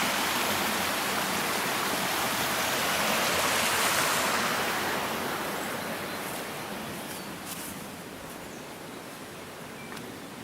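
A small stream current flows by a pond in a continuous, broadband rush of running water, swelling slightly and then easing off, with no voices over it.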